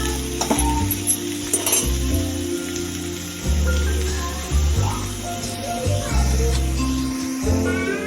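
Bitter gourd stir-fry sizzling in a pan while being mixed, a loud crackling fry broken by repeated scraping and tossing strokes of the spatula, each stir briefly swelling the noise.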